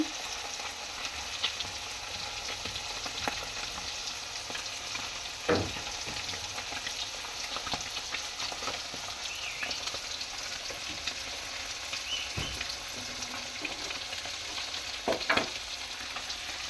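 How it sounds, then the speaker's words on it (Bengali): Amudi fish crackle in hot oil in a pan, a long, steady close sizzle punctuated by occasional sharp clinks and spatters. "মা এটা আমুদের মাছ ভাজছে"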